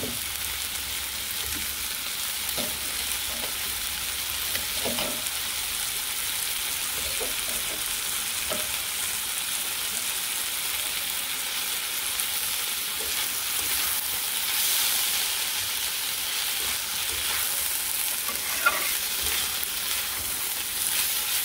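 Fish and onions fry together in a pan in a village kitchen, a constant bright sizzle with occasional soft scrapes and clinks as they are stirred, steady and close throughout.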